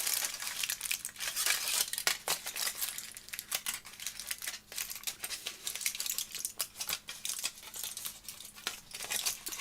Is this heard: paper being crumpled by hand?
yes